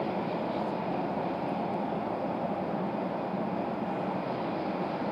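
An American Airlines A321 airliner departs RDU airport bound for Charlotte, a steady broadband jet roar holding evenly at moderate distance throughout.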